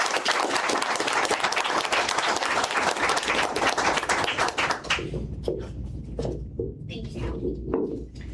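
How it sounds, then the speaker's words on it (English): A school district Board of Education meeting fills with dense, steady applause from the room for about five seconds, then thins to scattered claps and quieter murmuring. "I'd like to recognize our Board of Education with a round of applause"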